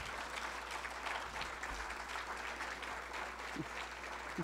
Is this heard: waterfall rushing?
no